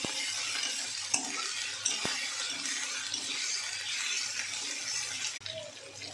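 Ginger garlic paste fries in a pan for prawn curry, giving a soft, steady sizzle close by with occasional stirring scrapes and a faint watery hiss, no talking.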